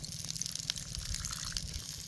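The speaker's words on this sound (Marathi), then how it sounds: "ज्वारीचं पीठ घेतलं ह्याच्यात पाणी घालून पातळ करायचं आणि ह्यात ओतायचं" Thinned jowar flour batter is poured into a dried bombil fish curry, giving a steady, close liquid gushing and splashing that runs continuously without a break.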